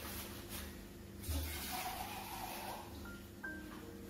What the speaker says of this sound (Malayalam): ശക്കലും കൂടെ വെള്ളം ഒഴിക്കുന്നു.